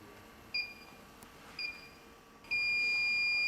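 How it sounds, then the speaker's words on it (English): An electronic refrigerant leak detector gives two short beeps about a second apart over quiet background hiss, then settles into a loud continuous tone as it is calibrated. "Turn on the electronic leakage detector and calibrate."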